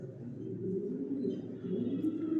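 Long-distance racing pigeons coo softly inside a loft, a steady, low, murmuring chorus of overlapping calls that continues without a break and stays close and fairly quiet.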